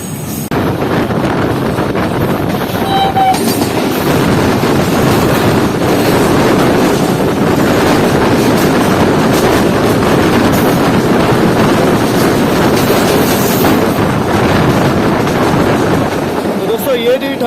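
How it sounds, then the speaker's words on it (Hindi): The 32 Down Jinnah Express, running between Lahore and Karachi, rushes past with a continuous loud roar and rumble mixed with heavy wind buffeting, and it stays dense and steady throughout. "ये थी 32 डाउन जिना एक्सप्रेस, जो कि लाहौर और कराची के दरमियान चलती है।"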